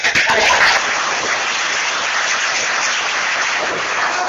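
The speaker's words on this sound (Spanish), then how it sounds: "Un aplauso" Applause from a conference audience at a clean-energy financing talk, a burst of clapping that swells briefly at the start and then settles into a steady, dense wash.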